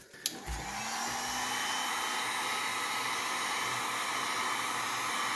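A heat gun switches on with a click and settles into a steady, loud blowing hiss while melting Sno-Seal wax into leather work gloves, close and continuous with no talk.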